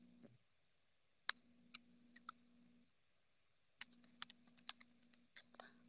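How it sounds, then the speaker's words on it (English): A computer keyboard clicks as a project name is typed, in quiet, scattered keystrokes with a pause partway through, then a quicker run of taps close up. "Type in a project name"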